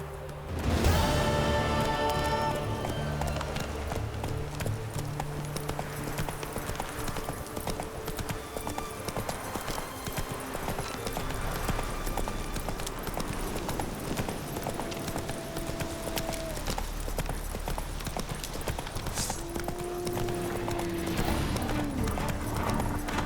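Rhythmic clip-clop of a horse's hooves carries on steadily in the video game The Witcher 3, with a brief voice at the start and faint background music and tones.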